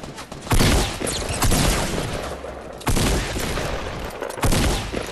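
Video game gunfire in Fortnite comes as three dense, loud bursts of rapid shots that crackle and boom, each followed by a short decaying tail.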